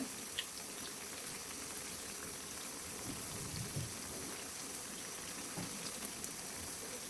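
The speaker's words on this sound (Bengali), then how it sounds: "এভাবে আমি উল্টে পাল্টে সুন্দর একটা কালার আসা পর্যন্ত একদম মুচমুচে করে ভেজে নেব" Flour-batter snack deep-fries in oil over a medium flame, giving a steady, dense bubbling sizzle with small pops, even and unbroken throughout.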